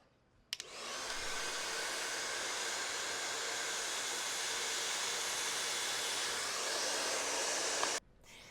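A hair dryer blow-drying hair with a round brush switches on and roars with a steady, loud, close whooshing airflow for about seven seconds, then cuts off abruptly, with no voices over it.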